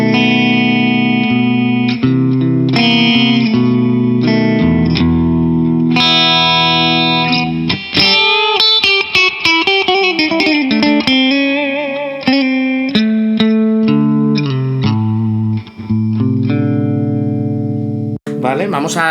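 Ibanez Q52PB electric guitar in Antique Brown Stained finish, played through its humbucker pickup in switch position 2 with effects applied. Chords and melodic single-note runs ring out close and loud with reverb, no talking.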